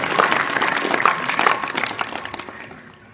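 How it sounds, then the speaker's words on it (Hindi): Audience applause at a school closing ceremony for inter-house competitions, a dense wash of clapping that swells early, stays steady, then fades away toward the end. "इस छात्र के लिए भी एक बार जोरदार तालियां बजाएं"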